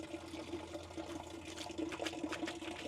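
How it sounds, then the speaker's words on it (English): Excess water drains out of a pipe into muddy ground in a yard trench, a soft steady trickle and gurgle that stays faint and continuous throughout. "You can see now we have the excess water coming out of here"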